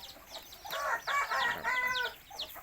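Domestic chickens on a chicken farm cluck in short, overlapping bursts, with hens calling close by and fainter fowl chatter between the louder phrases.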